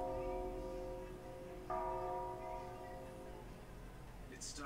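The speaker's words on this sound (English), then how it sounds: "Is that a bell?" Bell ringing in the video game Persona Q: Shadow of the Labyrinth, a faint, sustained ringing tone with a second strike partway through, heard under quiet background music and ambience.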